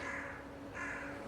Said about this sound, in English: Isn't it scary with the crows in the background of a cemetery?